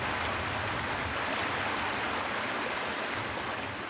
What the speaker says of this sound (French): il y a un petit ruisseau là qui coule